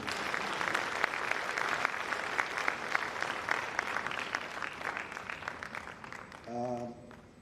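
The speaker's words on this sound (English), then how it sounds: "Let's give him a round of applause again." An audience at a national budget address by a finance minister breaks into sustained, moderately loud applause that fades out near the end, followed by a brief voice.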